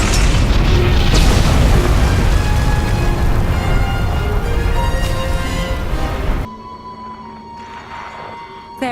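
A loud, sustained explosion destroys a supply cache in SWTOR (Star Wars: The Old Republic) on Rishi, a heavy booming roar with crackling debris lasting several seconds before cutting to a quieter tonal background.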